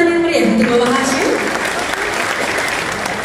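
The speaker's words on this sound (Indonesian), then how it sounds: "Boleh beri tepuk tangan yang meriah untuk Bapak Hashim." Audience applause for Bapak Hashim at a DNIKS anniversary event with Kemensos, a steady broad wash of clapping filling the room, with voices and a brief tonal sound near the start.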